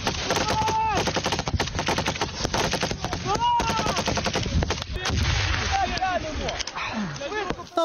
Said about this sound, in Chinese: 还好装甲车的机枪暂时压制住敌军